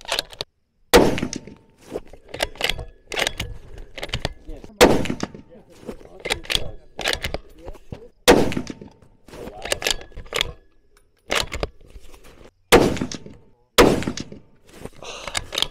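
A Springfield Waypoint bolt action rifle firing Hornady ELDX loads at an outdoor range, with sharp, loud shots spaced by pauses and a few clanks and thumps between them, no talking.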